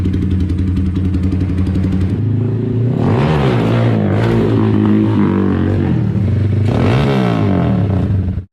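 A Kawasaki Z200S motorcycle fitted with a loud SC Project exhaust runs close by, its rough, thumping idle twice swelling into hard, blaring revs that sputter back down.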